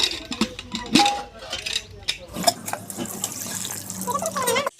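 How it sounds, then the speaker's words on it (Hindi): Running tap water splashes over dishes being washed in a village home kitchen in India, a steady close wash with clinks of utensils and brief bursts of talk in the background. "और चलिए अपना बर्तन धुल लेते हैं।"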